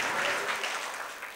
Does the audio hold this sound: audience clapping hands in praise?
yes